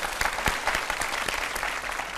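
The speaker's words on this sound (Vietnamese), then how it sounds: "Một tràng pháo tay đi quý vị." Studio audience applauding on a Vietnamese comedy game show, a steady wash of dense clapping with a few sharper claps standing out, fairly close and filling the whole short stretch.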